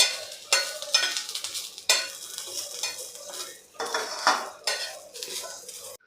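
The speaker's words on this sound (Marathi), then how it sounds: "यामध्ये आपल्याला घालायचं आहे खोबरं आणि लसूण हे सुद्धा आपल्याला हलकंसं गुलाबी रंगावर परतून घ्यायचं आहे" Onion, coconut and garlic sauté in a pan for a Kokan-style bira bhaji, with repeated scraping and clinking spatula strokes over a light sizzle, close by and without speech.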